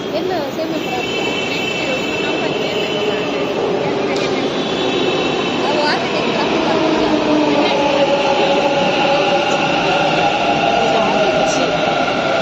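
A Bangalore metro train arriving at a station rumbles steadily nearby with high whining tones and faint squeals from the wheels, while people talk softly in the background.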